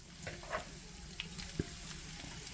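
Cornstarch-coated pork frying in a pan at home, a soft steady sizzle with a few faint clinks and a brief low thump, no talking.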